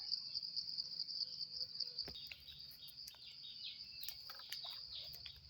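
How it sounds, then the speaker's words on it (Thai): A bird repeatedly calls a thin, high piu-piu whistle outdoors on a hillside among fruit trees, the calls recurring at moderate distance over a steady bed of shrill insect buzz, with a few louder clicks and rustles joining midway. "นี่เสียงนกปิ้วปิ้วปิ้วมาอยู่เนาะ"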